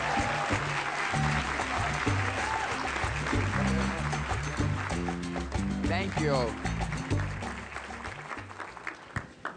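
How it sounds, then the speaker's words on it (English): Audience applause at a 2013 immigration plenary, greeting a congressman from Chicago, fills the hall steadily alongside background music, with someone briefly speaking over it. "Let's give him another round of applause, huh?"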